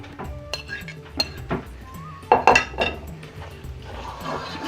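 Lamb karahi stirred in a pan: close metallic scraping and clinking of a spoon against the pan in uneven strokes, with a soft wet sizzle beneath and a louder burst of clanks partway through.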